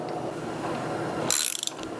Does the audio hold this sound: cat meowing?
no